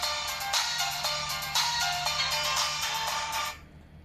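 Tinny, thin-sounding music plays from a SoundMilan portable DVD player's small speaker, a bright melody of distinct notes that cuts off abruptly just before the end.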